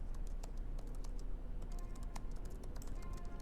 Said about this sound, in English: Oh, what about the keyboard typing?